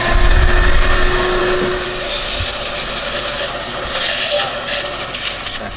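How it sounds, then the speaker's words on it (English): A steady, loud vacuum cleaner whir with a hissing airflow, running continuously, with a few faint knocks and scrapes near the start. "So here's the vacuum cleaner right here."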